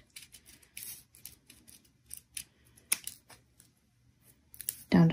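Scissors cutting paper for a carnation paper flower's foliage, a series of crisp close snips and rustles with short pauses between them, ending in a louder paper crackle.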